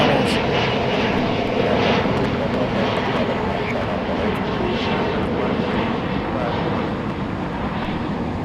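A FedEx airplane at Los Angeles LAX airport, a loud continuous jet engine roar filling the whole stretch, steady and close, with faint background voices underneath.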